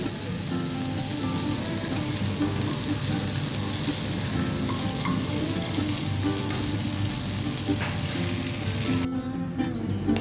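Vegetables fry steadily in a pan, with a loud continuous sizzle as chopped green chilli goes in, some light stirring and soft music in the background.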